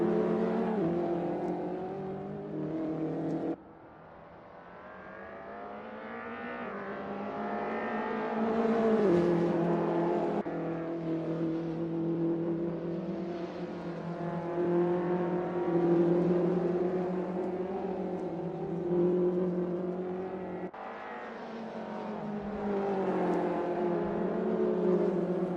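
Touring car engines from the Namibia Touring Cars series at Zwartkops, led by a BMW, roar steadily and rev through gear changes for about 25 seconds, with one sharp cut in loudness early on.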